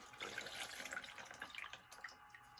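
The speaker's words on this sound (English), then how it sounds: "So I'll rinse out my sponge" A sponge is rinsed under running water at a pottery glazing workspace: a faint, close trickle and splash that lasts a couple of seconds, with no voices.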